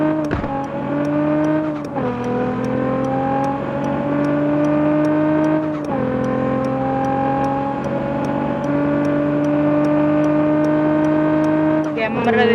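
A car engine in the Car Parking Multiplayer video game drones steadily and loudly throughout, its pitch dipping and shifting around two points as it revs, with no break in the sound.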